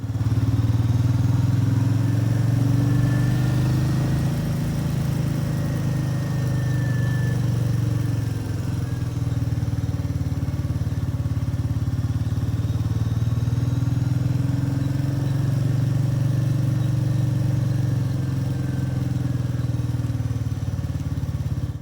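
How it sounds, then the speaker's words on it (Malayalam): A motorcycle in first gear during slow throttle-control practice without engine braking hums loud and near, its low engine note swelling and dipping gently in slow cycles over a long continuous stretch with no talking. "ഇതുപോലെ എൻജിൻ ബ്രേക്കിംഗ് വരാതെ വേണം പ്രാക്ടീസ് ചെയ്യാൻ."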